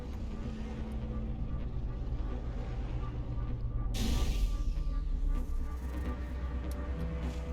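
A starship comes down onto a frozen swamp in No Man's Sky: a steady low engine drone builds to a sudden loud whooshing roar of the landing, then settles back into a continuous hum.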